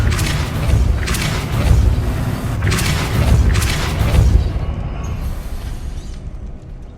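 The Depulso spell cast in Hogwarts Legacy: heavy booming blasts repeat in several loud surges, then the rumble fades away near the end, with no talking.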